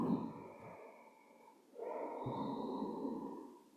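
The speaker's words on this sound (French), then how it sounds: "Et on fait 5 respirations en bas." Deep, slow breaths during a yoga forward bend in a hatha flow class: a long, soft exhale, then a fuller, airy inhale with a slight nasal edge. The breathing is close and quiet, with no voices.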